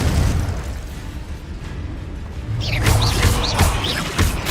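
Bombarda explosion spell from the game Hogwarts Legacy, a loud rumbling blast with crackling debris, followed by further bursts and magical whooshes in dense combat action.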